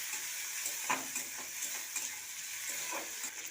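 Shrimp and onion fry together in a pan, giving a close, even sizzle with brief utensil taps and stirring scrapes.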